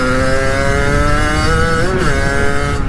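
A derestricted Sherco SMR motorcycle engine runs loud and close, holding a buzzy, steady tone with a slight shift in pitch near the end and no voices over it.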